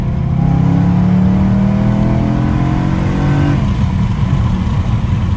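A BMW M4 G82 drives through a canyon, its engine loud and close with a rising then falling pitch as it pulls and shifts, tyre and wind roar underneath throughout.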